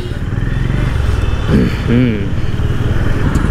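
A Honda CB 350 motorcycle engine rumbles steadily while being ridden, close and continuous, with someone talking over it and a brief horn-like tone in the middle.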